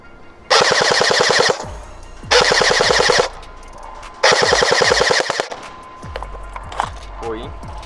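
A Cyma airsoft rifle fires three loud, rapid full-auto bursts, each about a second long, separated by short pauses, with a rattling mechanical buzz close to the microphone.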